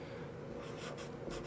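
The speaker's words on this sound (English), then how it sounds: "I'm going to write that down here." Marker or chalk writing on a board, a faint scratchy stroke sound with soft bursts of contact, quiet and close with no talking.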